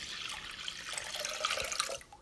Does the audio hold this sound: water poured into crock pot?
yes